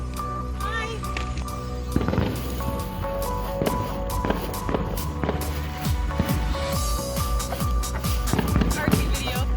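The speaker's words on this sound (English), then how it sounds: "Fireworks dance, fireworks dance." A 2020 fireworks display, with repeated sharp bangs and crackling bursts going off in an irregular series throughout, mixed with people talking and calling out nearby.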